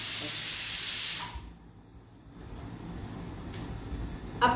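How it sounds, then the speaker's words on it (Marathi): A pressure cooker cooking rice lets out a loud, sustained hiss of steam through its whistle that cuts off abruptly after about a second, leaving quiet kitchen room tone with a faint click at the end. "आपल्या 4 शिट्ट्या मस्त झालेल्या आहेत"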